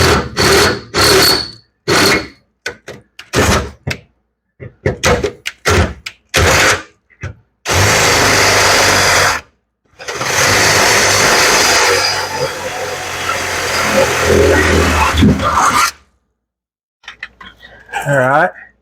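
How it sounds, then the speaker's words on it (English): A power drill boring a hole in a race car, a sustained whirring burst followed by a longer grinding run, with short bursts of talk between them. "So I'm gonna drill this other hole."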